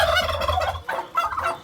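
A turkey chick calls in a few short, bright bursts of peeping, close by and with no other sounds around it.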